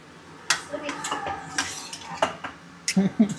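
A utensil stirs momo filling in a pan, scraping and clinking against the metal in irregular close strokes with a faint sizzle.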